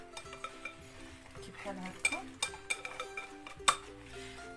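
Brownie ingredients are hand-mixed in a bowl with a utensil, giving light scraping and clinking taps against the bowl, close and fairly quiet, while someone speaks briefly.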